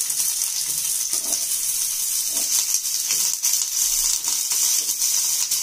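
Onions sizzling in a small amount of refined oil in a pan on a medium flame, a steady close hiss with faint scraping and stirring, no voice.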